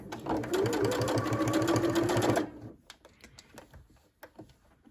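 A sewing machine runs fast and steady through stretchy fabric with a busy whirring, needle-driven rhythm, then stops abruptly and leaves a few faint clicks and handling noises.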